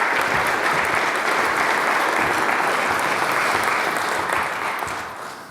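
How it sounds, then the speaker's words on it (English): An audience at a panel event on fighting disinformation and climate change applauds in a sustained, dense round of clapping that holds steady and begins tapering near the end, with no talk over it. "round of applause for them all,"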